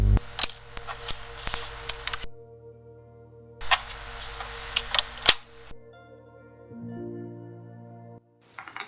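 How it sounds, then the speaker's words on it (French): Scissors snip paper into small 4 cm squares in two dense bursts of rapid, crisp cuts. Quiet pauses separate the bursts, and a faint hum follows at the end. "vous allez couper des morceaux de 4 cm sur 4 cm"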